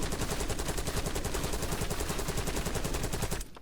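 Sustained full-auto Krig-C assault rifle fire in a shooter game, a rapid, steady stream of loud shots with no talk, ending abruptly after about three and a half seconds.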